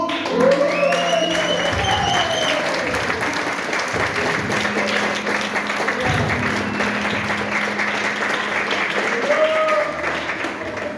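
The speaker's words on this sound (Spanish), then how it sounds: "Denle un fuerte aplauso a Dios." A church congregation at a Spanish-language sermon claps loudly and continuously for about ten seconds, while a voice speaks and sings over the applause.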